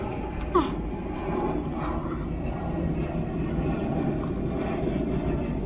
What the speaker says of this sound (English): Planes.